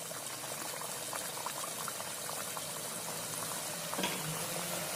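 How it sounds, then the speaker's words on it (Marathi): Banana puri dropped into hot oil, a continuous dense bubbling and frying hiss with a brief louder splash near the end. "तेल तापलंय, आपण एक पुरी सोडू देतो।"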